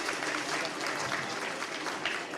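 Audience applause at a formal ceremony announcing the Jharkhand board intermediate results, steady dense clapping throughout, fairly loud and continuous with no pauses.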